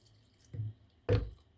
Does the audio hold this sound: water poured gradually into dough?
yes